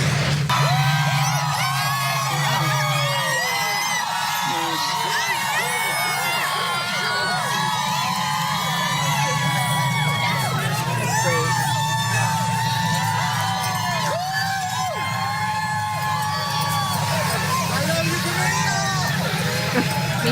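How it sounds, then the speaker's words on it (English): A large crowd outside a courthouse cheers, whoops and yells continuously after a verdict in the Depp v. Heard case in Fairfax, with a dense, steady roar of many voices and overlapping shouts. "Crowd goes wild."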